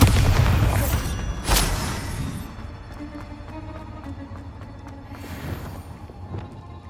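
Bombarda spell explosion in the game Hogwarts Legacy: a loud, deep blast at the start with a sharp crack around the middle second, then a rumbling decay and scattered lighter impacts.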